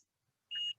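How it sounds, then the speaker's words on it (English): A SkeeterSat circuit board gives one short, high-pitched electronic beep against near silence. "it's going to make this beeping noise."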